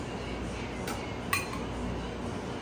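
A lid set down over a cooking pan of parmesan-crusted chicken makes a brief metallic clink, with a second small clatter just before it, against faint kitchen background noise.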